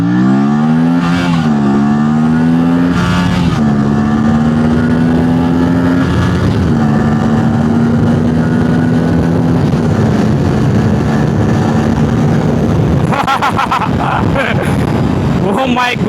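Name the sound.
Aprilia RS 457 motorcycle accelerating in sports mode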